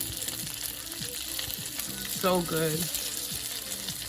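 Plant-based meatballs browning in a hot pan give a soft, steady sizzle beneath a speaking voice, with a brief louder burst partway through.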